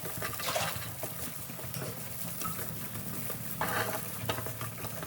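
Masala for Yippee noodles being stirred in a pan, a soft continuous scraping and light sizzle with a couple of louder spoon clatters, steady and close with no talking.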